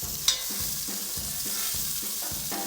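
Shallots, ginger, star anise and cinnamon sizzle steadily in a hot pan, a bright close frying hiss broken by a rhythmic scraping as the pan is stirred.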